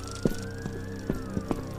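An ambulance siren is heard as a faint, steady wailing tone under background noise, with several short knocks and thumps scattered across the brief stretch.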